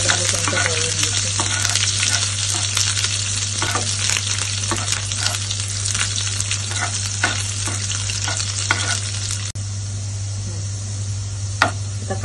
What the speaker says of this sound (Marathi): लसूण टाकून घेते, थोडा कांदा घेते, चांगलं लाल होईपर्यंत तळून घेते